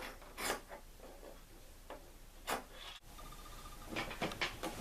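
Scissors snip through fabric for a turkey and apple table runner, giving a string of short, dry rasping cuts with brief pauses, close and fairly quiet.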